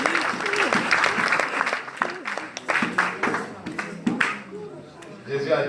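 A church congregation applauds at a French-language worship service, a dense burst of clapping over which a preacher's voice speaks, the applause dipping and swelling in waves before tailing off.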